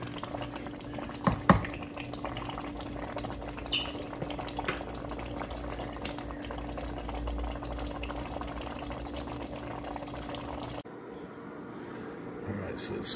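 Bolognese sauce bubbling in a pot on the stove, a steady low simmer with soft irregular pops close by, under a constant hum, with a voice talking over it.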